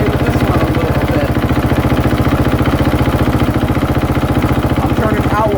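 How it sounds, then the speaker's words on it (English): A KTM 450SXF four-stroke motocross bike engine holds a slightly raised idle with a steady, rapid, even thumping pulse, close and loud throughout. "I'm going to leave it right there at a little bit of a high idle"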